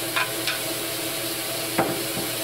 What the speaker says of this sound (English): We're ready for our stew meat now. I'm throwing that into the pan. The pan is still hot.